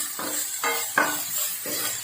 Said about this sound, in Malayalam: നല്ലവണ്ണം ഒന്ന് വഴറ്റി കൊടുക്കുക.